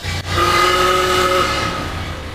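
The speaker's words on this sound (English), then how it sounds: "Here's the horn." An original horn gives one loud, steady blast lasting just over a second, heard alone over the low rumble of a running engine.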